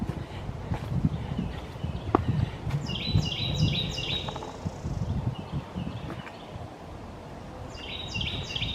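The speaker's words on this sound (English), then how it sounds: "I love listening to the birds." Birds chirp and trill in short bursts over rustling footsteps on a woodland trail in Iroquois Park on an October morning, the calls clear but moderately distant, repeating near the end.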